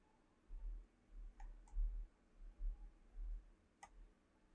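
Sharp computer mouse clicks, three or four brief separate ticks spaced irregularly, close and fairly quiet over low background hum, while setting up a BNB to Brise token swap.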